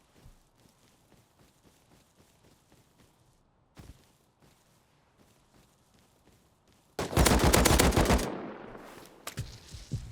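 Video game gunfire: scattered faint shots and footsteps, then a loud burst of rapid automatic fire lasting about a second, followed by a few more isolated shots trailing off.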